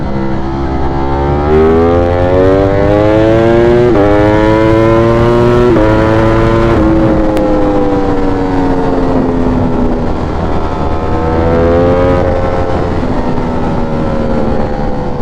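A loud motorcycle exhaust roars nearby, echoing off a guardrail, rising through several gears in stepped pulls, then easing off and building again, with no speech.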